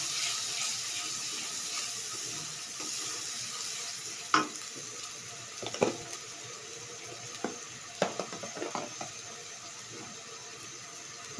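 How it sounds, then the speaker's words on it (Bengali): Beef with turmeric and spices being stirred in a pan for a beef and potato bhuna: a steady sizzle with scattered, sharp scraping clicks from the stirring. "আবারও ভালো করে নেড়ে চেড়ে মিশিয়ে নিচ্ছি।"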